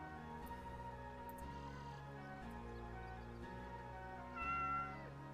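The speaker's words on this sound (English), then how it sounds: "Good kitty. That is a cat named Fox." A cat named Fox in Skyrim meows in a few drawn-out, tonal calls over a soft continuous game soundscape, the last meow higher and louder.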